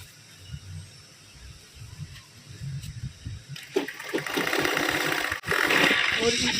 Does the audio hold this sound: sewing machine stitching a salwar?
yes